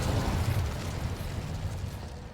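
Incendio fire spell cast in Hogwarts Legacy: a loud, sustained low whooshing roar of flame bursting out and rumbling steadily for a couple of seconds before easing off slightly.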